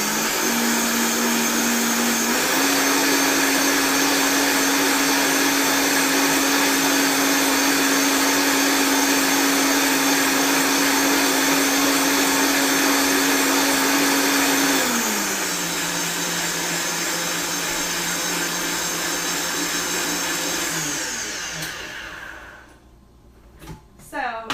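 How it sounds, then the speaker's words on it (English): Blender whirring steadily at high speed for about twenty seconds while blending bulletproof coffee until foamy, with the motor pitch dropping partway through before it winds down and stops. "I'll blend it up really quickly so you guys can see that it comes out very foamy."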